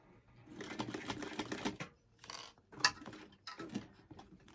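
A sewing machine stitches across a fabric strap in close, fast whirring bursts with a pause between runs, plus a sharp mechanical click.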